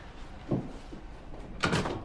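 A door swings shut indoors in a home, a soft thud followed by a louder latch-and-close impact, with no talking.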